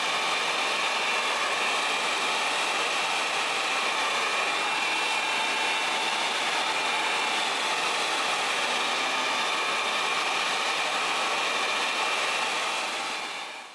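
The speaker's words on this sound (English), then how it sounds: "I might have to go in with the blow dryer again just to smooth everything out even better" A hair dryer blows steadily at close range, a constant loud whooshing hum that cuts off at the end.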